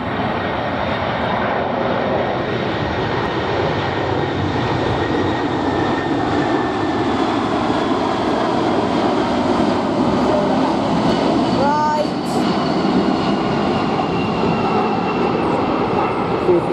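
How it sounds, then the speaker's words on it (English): A Boeing 747 jet airliner at Heathrow roars continuously and loud nearby with a broad rushing engine noise and a faint whining tone. A brief sharper mechanical sound comes partway through. "The 747, I don't know which one it is."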